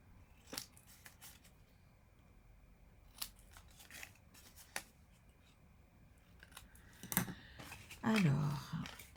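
Scissors bevel the edges of paper pieces for a scrapbook photo album: sparse crisp snips spread across a quiet stretch, then a louder burst of cutting and paper handling near the end, with brief talk.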